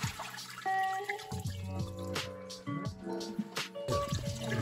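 Water poured steadily to fill an open aquarium tank, a continuous close splashing and gurgling with shifting tones as the level rises.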